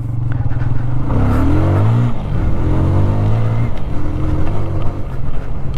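A 2024 TVS Apache RTR 160 2V motorcycle engine accelerates while being ridden, its loud close drone rising in pitch through successive gear changes amid wind noise.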